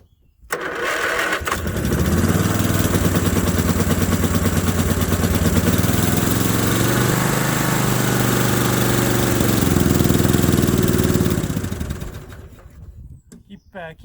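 Westwood Gazelle W11 garden tractor engine, just out of winter storage, starts up and runs loud and close with a steady mower-like drone for about ten seconds before shutting down.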